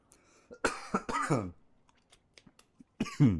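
A man with a lingering cough left over from an illness coughs close to the microphone in three or so harsh bursts, with quiet gaps and small sounds between them.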